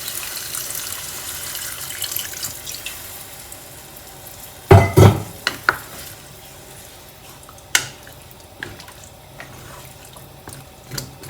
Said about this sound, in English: now we are adding sufficient water to cook these vegetables